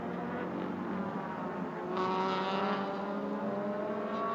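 Race cars lapping the circuit in a Malaysia Championship Series round, a steady engine drone from several cars with a harmonic whine that swells louder around the midpoint as one draws nearer, continuing without voices.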